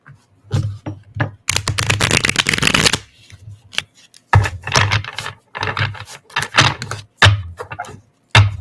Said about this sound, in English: Gotta get better at shuffling gently.